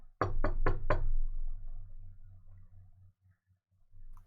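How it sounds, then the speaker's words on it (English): Four quick, sharp knocks on a door sound close and loud, followed by a low, steady hum, as part of a tabletop role-playing game session. "you hear a knock at the door"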